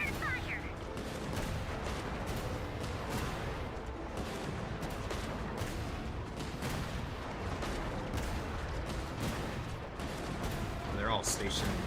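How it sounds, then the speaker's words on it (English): Cannon fire in the Genshin Impact video game thuds out in repeated blasts amid continuous battle noise, fairly quiet overall, while voices talk over the gunfire. "We got a cannon now. Prepare fire."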